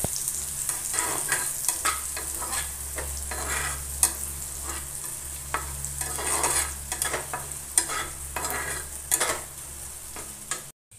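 Onions sizzle steadily in hot oil while a utensil scrapes and stirs the pan in repeated strokes, close and fairly loud, with a low hum underneath.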